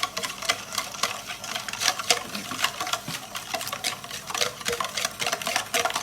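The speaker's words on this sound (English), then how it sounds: "So I'm just gonna take my whisk and mix everything in." A whisk beating banana bread batter in a bowl, a rapid, steady rhythm of close clicking taps against the bowl throughout, with no voices.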